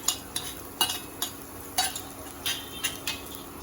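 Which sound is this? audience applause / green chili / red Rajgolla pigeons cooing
green chili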